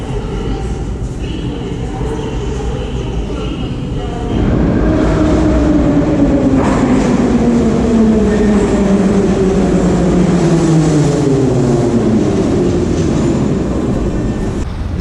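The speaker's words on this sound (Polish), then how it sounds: "No i wsiadamy do metra w takim razie." A Kyiv metro train at an underground station: a steady rumble, then a louder surge as the train moves off, with rising and falling whine tones and rail clatter that carry on for several seconds.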